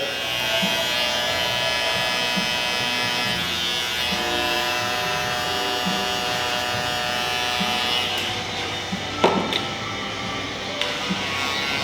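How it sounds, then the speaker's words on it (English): An electric shaver hums steadily up close during a skin fade haircut, a continuous buzz with a couple of brief clicks near the end and no talking. "A little bit of the 5-star shaver, actually the finale."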